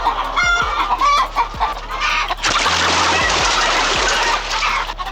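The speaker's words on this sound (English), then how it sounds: "the chickens, which are all clearly roosters for some reason, scream at her. Like literally scream at her" Roosters and chickens in a 1971 horror film scream and cluck loudly in a dense, overlapping flock, with sharp crowing cries over a constant barnyard din and a low rumble beneath.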